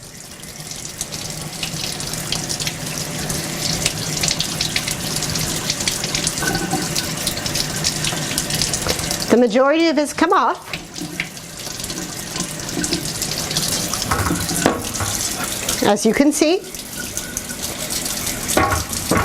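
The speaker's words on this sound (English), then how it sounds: "First we're going to try rinsing the cherry grenadine syrup. This is just cold water." Cold tap water runs steadily over an epoxy kitchen countertop, rinsing off thick cherry grenadine syrup, a continuous close splashing stream with a man's brief speech partway through.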